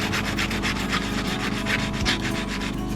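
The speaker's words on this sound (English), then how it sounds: "So we're just gonna use some sandpaper" Sandpaper rubs back and forth over an epoxy edge in quick, even strokes, a close, raspy scraping repeated about a dozen times with a steady rhythm and no voices.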